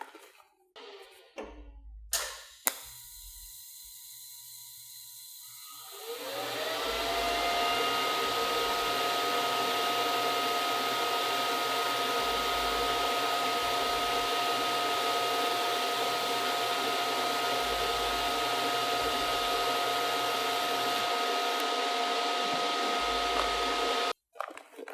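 A TIG welding torch with a tungsten electrode strikes an arc on metal, which hums in a steady, bright buzzing drone for most of the stretch after brief clicks and a quiet start, then cuts off abruptly near the end.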